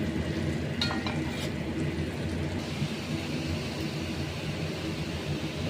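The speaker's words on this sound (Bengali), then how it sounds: "এগুলো কোপ্তাগুলো এখন আমি মশলাটা কষাবো" Masala being sautéed for a raw banana kofta curry, a steady loud frying hiss with faint stirring scrapes throughout, no voices.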